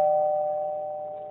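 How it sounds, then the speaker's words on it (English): A single doorbell chime from a video game strikes once and rings out, its clear tone slowly decaying in an otherwise quiet space. "It's the doorbell ring."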